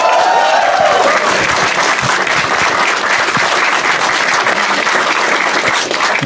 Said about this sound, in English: you guys have to give a round of applause